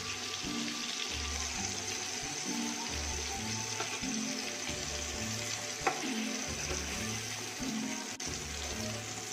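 Tuna fish pieces browning in a hot pan, a steady close sizzle of frying that runs throughout, with faint scraping stirs and a soft low rumble beneath.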